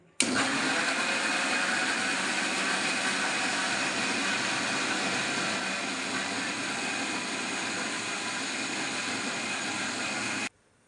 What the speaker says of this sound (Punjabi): ਇਹਨੂੰ ਆਪਾਂ ਚੰਗੀ ਤਰ੍ਹਾਂ ਪੀਸ ਲੈਣੇ